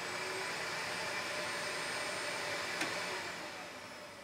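A Sovda vacuum lift's vacuum pump running, a steady close whooshing drone with one brief click midway, easing slightly in level toward the end.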